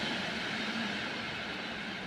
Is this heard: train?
yes